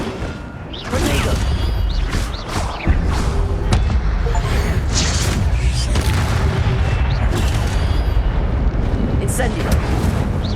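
A Tornado spell in Hogwarts Legacy roars as a dense, sustained rumble of swirling wind and debris, with crashing bursts and combat noise layered over it and voices shouting now and then.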